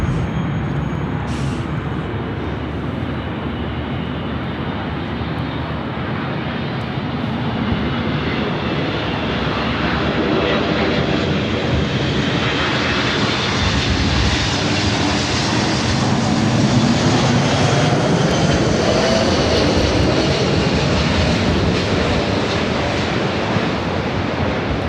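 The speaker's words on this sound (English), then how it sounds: "This is United Airlines 2403 coming in from Newark on the 777-200" A United Airlines Boeing 777-200 from Newark lands at LAX with a loud, steady jet roar that slowly swells and shifts in pitch as it passes close, mixed with heavy wind rumble and no talking.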